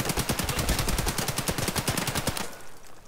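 Rapid automatic gunfire from Escape from Tarkov rattles in a fast, steady burst of closely spaced shots for over two seconds, then cuts off, leaving a faint tail.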